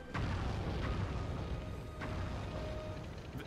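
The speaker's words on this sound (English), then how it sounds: "They're exploding." Explosions in the PS2 game Sly 3: Honor Among Thieves, a dense rumbling roar of overlapping deep booms with a few sharper bursts, loud and continuous with no talking.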